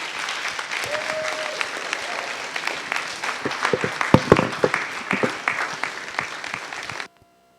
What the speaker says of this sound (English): Think we can clap some more?